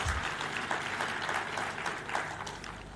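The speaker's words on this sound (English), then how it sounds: "Let's give him a clap as he's coming." An audience at a Kenyan devolution anniversary event claps steadily to welcome a governor to the podium, a dense, sustained round of applause lasting throughout with faint voices mixed in.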